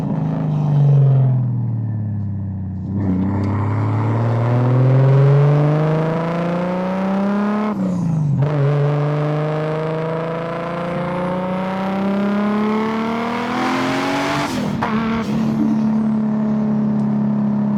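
A Lexus IS 300 with a newly installed carrier bearing accelerates toward highway speed, its engine note climbing steadily in pitch through gear changes with brief dips at each shift, accompanied by a continuous road and wind rumble.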